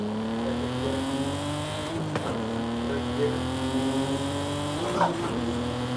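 Car accelerating after the clutch is released in the racing game Forza Horizon 5, a loud continuous engine note climbing in pitch through gear changes, with brief tire noise near the middle and end.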